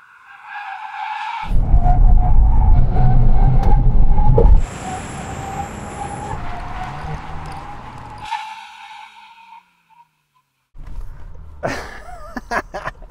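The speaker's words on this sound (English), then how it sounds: "now we can have a brake test from 160 kilometers an hour" Volkswagen Golf GTI cars braking hard from 160 km/h on a drag strip, a loud roaring rush that cuts abruptly into a long tire squeal and skid, then silence before a further burst of skidding noise.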